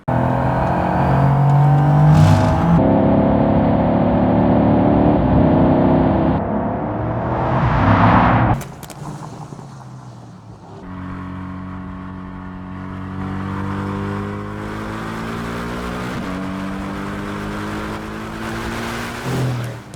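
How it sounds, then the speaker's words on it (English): A recorded exhaust note of a Mercedes-AMG GT R plays back through car speakers, a loud, steady engine drone with rising and falling revs, a sharp shift around the middle, then a smoother sustained tone. "the exhaust note of the AMG GT R specifically"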